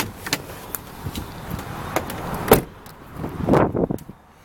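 The power sunroof of a 2006 Chevrolet HHR opens inside the car. Scattered clicks and knocks lead into a short, louder motorized whir near the end, with no talking.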